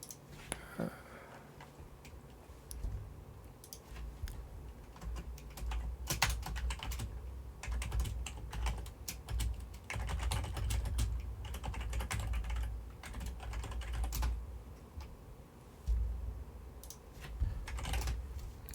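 Rapid computer keyboard typing runs throughout, with dense irregular clicks and bursts of key presses over a low background hum, close and fairly steady.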